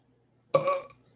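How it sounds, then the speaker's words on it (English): A single short burp, close and fairly loud against a quiet room, lasting about half a second. "Oh, sad for that burp."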